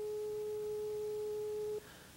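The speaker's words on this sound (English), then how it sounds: "Listen for the tone." A steady, pure electronic test tone holds unbroken at a single pitch for almost two seconds, then cuts off abruptly, leaving a quiet background hiss.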